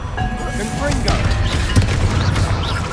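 A Confringo spell blast in Hogwarts Legacy, a loud fiery boom with crashing debris that runs through the whole stretch, mixed with other combat noise.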